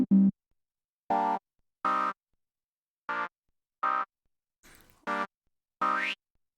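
A resonant synth patch on a Waldorf Iridium synthesizer plays short, bright, pitched notes, about eight of them, each separated by silence. The notes are clear and tonal with a bouncy resonant character, and there is no talk.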